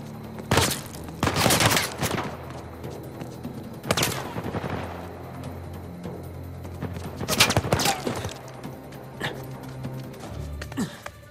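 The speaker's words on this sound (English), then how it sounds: "I'm being shot at." Gunfire in Uncharted: Legacy of Thieves comes as several separate loud bursts of rapid shots spread through the stretch, with quieter background game ambience in between.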